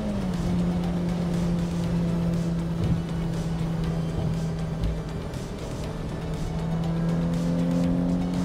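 A Mazda Miata running a custom tune pulls hard through its gears, its engine a steady droning tone that climbs and then drops at a shift.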